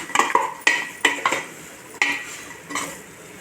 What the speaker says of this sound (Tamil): சேர்த்துட்டு இதுவும் ஒரு நிமிஷம் நீங்கள் நல்லா கலந்து விட்டுருங்க